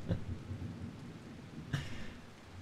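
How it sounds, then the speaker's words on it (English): Steady rain patters softly with two distant thunder rumbles in the video game The Kidnap, calm and alone without any voices. "I love the rainy ambience."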